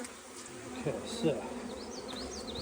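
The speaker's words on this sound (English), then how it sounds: "I'm going to go ahead and get most of these bees knocked down here." A honeybee swarm buzzes in a tree, a dense continuous hum with individual bees whining past close by, while someone briefly speaks over it.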